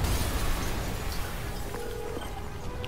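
An explosion in the Spider-Man PS4 video game gives a dense, loud roaring rumble that fills the whole clip, slowly fading, with faint game effects underneath.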